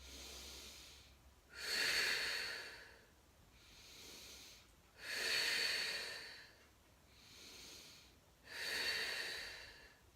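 Four forceful exhales during a core toe-tap exercise, each a breathy rush lasting over a second, spaced evenly with quieter breathing between, close and alone.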